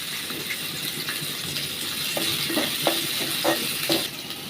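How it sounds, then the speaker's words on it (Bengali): Chopped onion and garlic fry in a pan, a steady sizzle with occasional light stirring clinks and scrapes from a spoon against the pan. "পেঁয়াজ কুচি দিয়ে দিলাম রসুন কুচি দিয়ে দিলাম এটা একটু লাল লাল করে ভাজে নিতে হবে"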